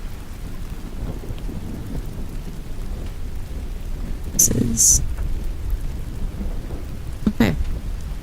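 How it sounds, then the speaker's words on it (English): Steady rain pours as background ambience while thunder rumbles twice, with a crackling fire also present, and a voice speaks briefly over it. "Is the background noise a good balance? The thunder and the fire,"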